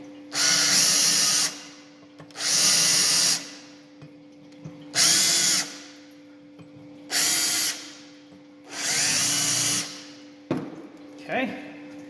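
An MR-1 drill with a step drill bit cuts through steel plate in five separate loud, grinding bursts of a second or so each, with a steady electrical hum underneath and quiet gaps between.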